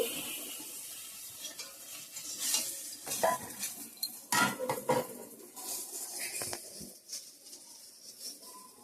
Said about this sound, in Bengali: বেগুন ভাজাটা করে নিচ্ছি